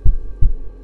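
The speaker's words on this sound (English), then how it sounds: "I don't get the significance of the heart beating." Two deep, heavy heartbeat thumps sound in a horror video game, close and loud with a steady pulse and a low hum beneath.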